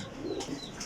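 Pigeons coo in a loft holding around five hundred birds, a short, soft burst of low throaty cooing with faint chirps layered over it.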